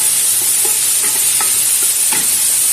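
Onions for chicken biryani sizzle steadily in a pan while a utensil stirs them, giving several distinct scraping clicks over a continuous bright frying hiss; close and fairly loud, with no talk.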